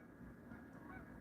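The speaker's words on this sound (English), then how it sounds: "Hey, there's some geese flying." Geese honk while flying overhead at night, a faint far-off chorus of calls drifting through a quiet outdoor background.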